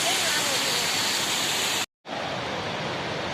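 Mountain stream water rushes down from the slopes near a hot spring pool on the way to Gangotri, a loud, continuous roar broken by one brief dropout.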